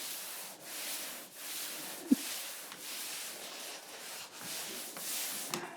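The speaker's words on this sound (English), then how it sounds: "We're just gonna do a quick pole sand, and you don't have to go crazy with this." A sanding pole scrapes across an interior wall before painting in steady, rhythmic back-and-forth strokes, close by, with one sharp knock partway through.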